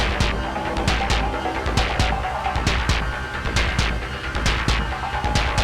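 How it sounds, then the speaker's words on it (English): A Moog DFAM analog percussion synthesizer plays a loud, driving percussive texture of rapid, evenly spaced hits with sharp attacks over a low, throbbing undertone, with no voices. "we built a kind of percussive texture on the DFAM, on the Moog DFAM"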